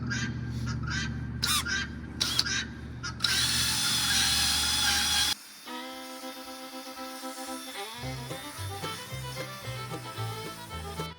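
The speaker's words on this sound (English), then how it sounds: "I'm going to take this little brush on my drill, go over it" A power drill fitted with a brush whirs loudly for about five seconds while it scours a wood stove, stopping and restarting in short bursts. Melodic music with steady tones follows once the drill stops.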